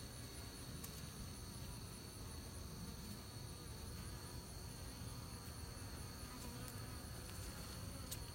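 Bees buzz around homemade comb they built themselves as it is moved into hive frames, a continuous faint drone with the whine of individual bees passing near, and no one speaking.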